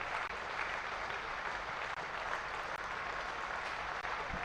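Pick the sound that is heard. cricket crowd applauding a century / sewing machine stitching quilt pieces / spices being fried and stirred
cricket crowd applauding a century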